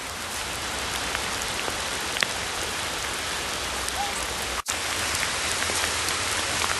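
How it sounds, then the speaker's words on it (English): Steady, heavy rain pours down without a break, a dense hiss of drops hitting surfaces close by, with one brief dropout midway. "I don't know if you can hear the rain, but it's hammering down here."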